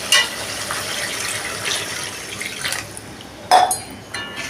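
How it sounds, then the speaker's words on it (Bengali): Water pours into fried spice masala in a cooking pot for a raw papaya kofta curry, a steady soft liquid pour with a sharper splash or clink near the end. "জল দিয়ে দিলাম।"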